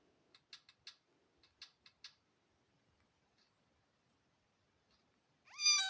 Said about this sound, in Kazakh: Мындай мысық. Көре аласыңдар.